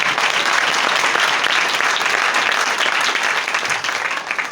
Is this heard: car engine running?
no